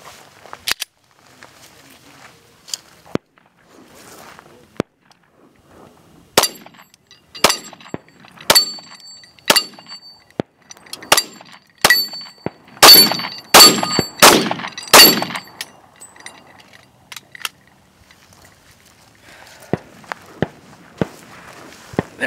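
Pistol shooting practice outdoors: sharp gunshots ring out one at a time and in quick strings, with metallic clangs from steel targets. They grow denser and louder in the middle, then thin out to faint scattered pops.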